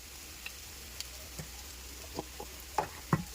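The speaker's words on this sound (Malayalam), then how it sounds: "ഇനി ഒന്ന് ഇളക്കി കൊടുക്കാം." Turmeric powder is stirred into sardine curry masala frying in a pan for a Kerala-style curry, giving soft, scattered scrapes and taps over a faint low sizzle that grow a little more frequent toward the end.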